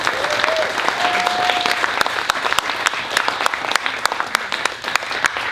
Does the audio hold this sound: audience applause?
yes